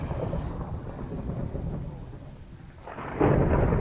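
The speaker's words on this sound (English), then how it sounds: "bad thunderstorm outside tonight." A bad nighttime thunderstorm rumbles outside with steady rain, the low roll of thunder swelling and fading before a louder crack and surge of rain near the end.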